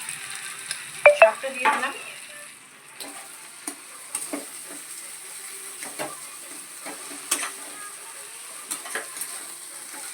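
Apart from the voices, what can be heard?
boiled potato added and frying in a pan for aloo paratha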